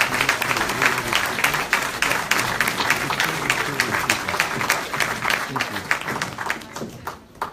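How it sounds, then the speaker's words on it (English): An audience at a live income-earner event applauds steadily for people brought up to the front, a dense wash of many hands clapping at an even level that tapers slightly near the end, with a few voices mixed in. "Round of applause, guys."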